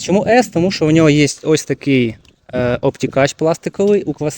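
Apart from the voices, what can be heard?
None of the usual background noises is heard.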